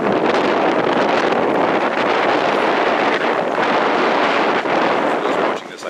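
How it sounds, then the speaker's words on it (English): Strong wind buffets the microphone outdoors on a dock on a rainy day, a loud, continuous broadband roar that barely lets up before dipping briefly at the very end. "I apologize for the wind"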